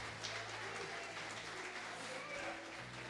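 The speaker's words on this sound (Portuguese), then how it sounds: "Vamos dar uma salva de palmas para o Senhor Jesus." A church congregation applauds steadily throughout, a dense wash of clapping in a large room, with some faint voices mixed underneath.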